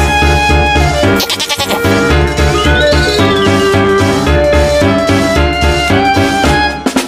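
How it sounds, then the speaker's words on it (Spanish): A loud, wavering goat bleat rises over dense, busy music, with the bleat standing out clearly near the middle before the music carries on. "Cabra."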